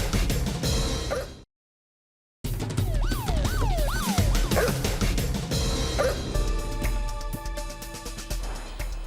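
A dog believed to be a pit bull barks and yips repeatedly at close range, with a sharp burst, a short gap, then more barking over a rising and falling police siren.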